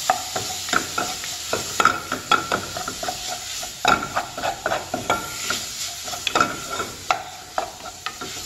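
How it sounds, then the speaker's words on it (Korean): Barley shrimp and shiitake mushrooms are stir-fried in a pan, with a constant sizzle under brisk, rhythmic scraping and clacking of the utensil against the pan, close and fairly loud. "이렇게 잘 볶아주시고요. 여기 아까 표고 있죠? 표고도 같이 볶아주세요."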